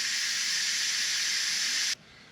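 Steam hissing from the pressure release valve of an Instant Pot cooking green beans, a loud steady bright hiss that cuts off abruptly near the end, leaving faint room noise.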